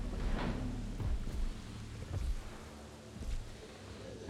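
Rain and rolling thunder in the Jurassic World Evolution video game: a dense wash of rainfall with deep rumbling booms that swell and fade several times over a few seconds.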